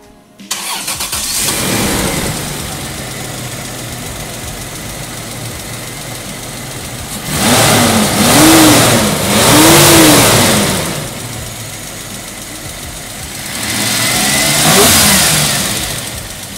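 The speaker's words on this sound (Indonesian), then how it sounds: "Yuk dengar suara mesinnya dulu." A Toyota Crown wagon's inline-six engine cranks and catches, settles into a steady idle, then is revved several times in rising and falling surges, loud and close.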